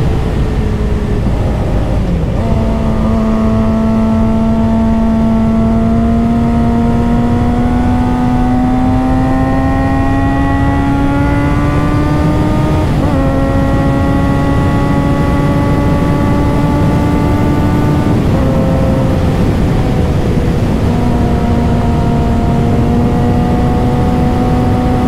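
A motorcycle ridden hard, its engine note climbing steadily through each gear and dropping at every shift, close and continuous throughout with no talking.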